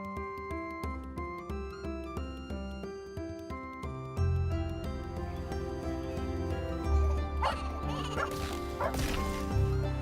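A dog barks and yips in a video game trailer, short repeated barks mixed into a steady musical score that swells louder partway through.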